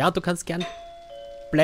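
A doorbell chimes in the horror game Visage, a clear two-tone ding-dong that rings out between bursts of a man's speech.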